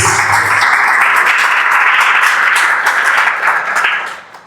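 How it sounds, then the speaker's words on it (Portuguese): A church congregation in a Portuguese-language service claps for Jesus, a loud, full burst of applause that stays even for a few seconds before tapering off at the close. "Você pode aplaudir Jesus?"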